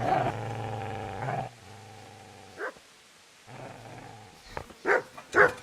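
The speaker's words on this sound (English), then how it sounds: "Get away, you mutt!" A dog growls and snarls in the medieval video game Kingdom Come: Deliverance, a sustained rumbling growl at first, then a pause and a quieter growl, ending with a few sharp, loud barks or snaps.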